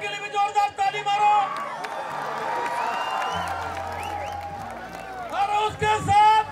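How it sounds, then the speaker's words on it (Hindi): A crowd claps and cheers at a public event in Jagdalpur. The loose, lively applause carries whoops and raised voices over it and swells again toward the end. "रक्षा गैन के लिए भी जोरदार ताली मारो"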